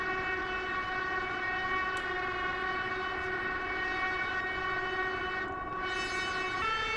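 A synthesizer with hard-synced oscillators holds a steady, buzzy, harmonic-rich tone like a tornado siren or train horn, sustained and loud throughout with a slight shift near the end.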